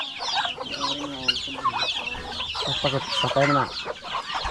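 Backyard chickens in a rural province flock, unvaccinated, cluck and chatter steadily at close range, with people talking over them throughout.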